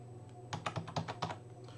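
A computer keyboard being typed on while a French layout is tested under Linux: a quick, quiet burst of about a dozen close keystrokes in under a second, then stillness.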